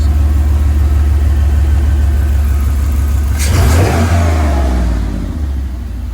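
Off-road rock bouncer buggy engine, a front-yard build, idling loud and close before a sharp gas-pedal rev surges midway and settles back to a rumbling idle.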